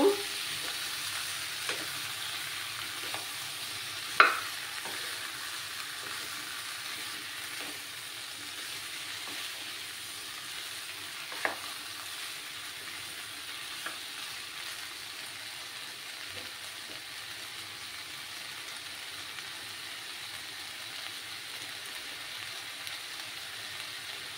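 Sliced ridge gourd fries in a pan with a steady soft sizzle, broken by occasional scraping clicks of stirring, one sharper knock early on, and no voices.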